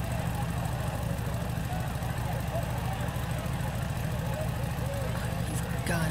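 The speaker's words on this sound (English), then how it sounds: "I came up to find Bogdan on the bike, revving the engine and hollering like an idiot" A motorbike engine in the Thief of Thieves video game runs as a steady, continuous low rumble at moderate volume, holding an even idle-like drone throughout with no breaks.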